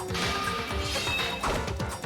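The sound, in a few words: incinerator glass shattering in video game Danganronpa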